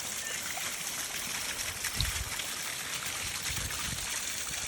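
Water flows down a waterfall in a Japanese-style sakura garden near a tea house, a steady, full rushing and trickling that continues without a break at close range.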